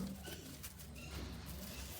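Pigeons in a loft giving soft, low, repeated coos, faint and close against a quiet background.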